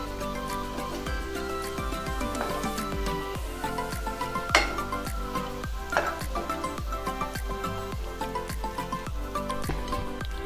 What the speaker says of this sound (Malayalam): ഇനി നമുക്കിതെല്ലാം ഇതുപോലെ ഒന്ന് വറുത്തെടുക്കണം